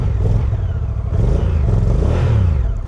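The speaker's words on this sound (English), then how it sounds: "let's start this up. There it is. A very characteristic Honda sound." A 2025 Honda NT1100 DCT motorcycle engine, just started and not yet warmed up, runs loud and close, a steady low rumble with slight revving swells throughout.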